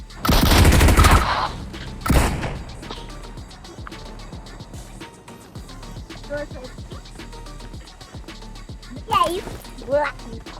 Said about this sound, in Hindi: और पीछे से भी पोरा एक स्नाइपर चला रहा है